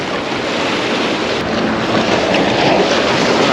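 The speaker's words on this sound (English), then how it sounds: "it's a pretty windy day today." Strong wind roars across a fishing pier by the ocean, a loud, unbroken rush buffeting the microphone with surf mixed in beneath.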